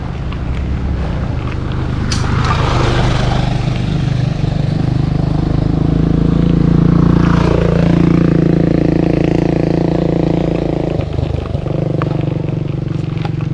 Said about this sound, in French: et maintenant, c'est les motos